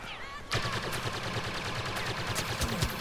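Rapid blaster fire from Star Wars Battlefront online play, a dense crackling volley of repeated shots starting abruptly and continuing steadily, loud and close, with no talking.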